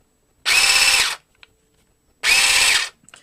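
Two separate bursts of about a second each from a Parkside cordless bush and hedge trimmer sold by Lidl, its motor whirring up sharply, running, then cutting off, close and loud with silence between.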